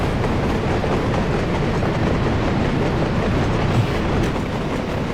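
Train from the video game Arbetare & Resurser: Sovjetrepublik rolling steadily along rails, a continuous loud rumble with faint clickety-clack from the wheels and no pauses throughout.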